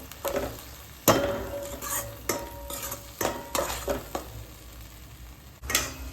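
Onion paste fries on low heat in a pan while a spoon stirs it, giving a quiet bed of sizzling broken by sharp metallic scrapes and knocks against the pan at irregular intervals.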